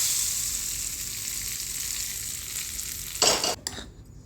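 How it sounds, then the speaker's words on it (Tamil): Cumin seeds tempering in hot oil, a steady bright sizzle that holds close and loud before a brief burst of stirring and a sudden cutoff near the end. "எண்ணெய் ஊற்றி சீரகம் மட்டும்தான் போட்டிருக்கிறேன். சீரகம் மட்டும் போட்டு தாளித்து"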